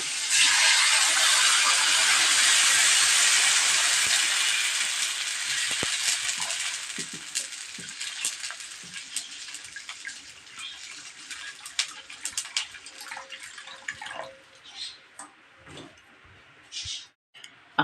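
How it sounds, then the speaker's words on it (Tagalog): Water pours into a pan of sautéed garlic, onion, ginger and tomato, a loud hissing sizzle and splash that slowly settles into quieter bubbling and a few clinks toward the end, with no talking. "Pag nagisa na po natin ang bawang, sibuyas, luya at kamatis, lagyan po natin ng tubig."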